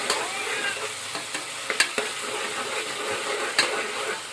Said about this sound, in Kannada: ಉಳ್ಳಾಗಡ್ಡಿ ಕೆಂಪಗಾಗಿ ಫ್ರೈ ಮಾಡ್ಕೊತೀನಿ ರೀ.